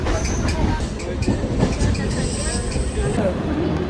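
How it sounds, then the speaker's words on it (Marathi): A train stands at a railway station ahead of a trip to Kalyan, its steady low rumble and clatter filling the platform, with people talking nearby throughout. "गाईज आमची इथे मागे ट्रेन लागली आहे"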